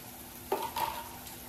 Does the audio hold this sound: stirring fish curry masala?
yes